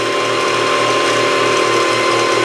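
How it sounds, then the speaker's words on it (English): An IKEA SY sewing machine winds thread onto a bobbin with a loud, steady mechanical whir and fast rhythmic ratcheting clatter, close up and continuous, with no voice. "hopefully you see that the thread is winding, and you can just wait until it's all wound up"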